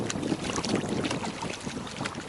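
Strong spring wind blows across a canal on a fishing outing, a steady loud roar and buffeting of gusts against the microphone that fills the whole stretch with no talking.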